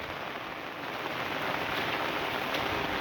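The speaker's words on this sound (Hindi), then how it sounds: "बहुत ख़तरनाक नज़ारा इस समय बरसात का उत्तराखंड में" Monsoon rain in Uttarakhand pours down in a steady, dense hiss that holds evenly throughout, close and fairly loud, with no voices.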